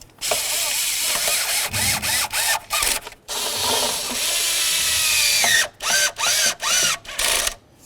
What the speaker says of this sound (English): let's continue on by putting in our 6 studs that we had removed. I'm just going to start them all in, and then we'll snug them up